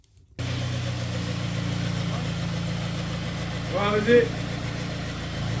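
A 6.5 litre turbo diesel engine idling with a steady low, even rumble after it starts, close and loud, as someone speaks briefly over it.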